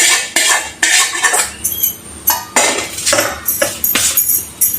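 A metal spoon scrapes and clinks repeatedly against a bowl or pan in quick, uneven strokes while spice masala is mixed into patty filling, close up with no talking.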